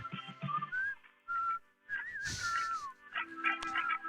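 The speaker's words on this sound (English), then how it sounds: "See, I'm better at whistling than you are." A person whistles a tune along with music, clear pitched phrases with short pauses between them, fairly quiet and close, and a small dog whimpers or yips faintly in the background.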